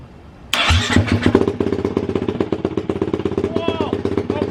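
A 2021 Kawasaki KX450X dirt bike with its exhaust pipe removed starts abruptly, then settles into a loud, close, rapid thumping idle with sharp pulsing beats.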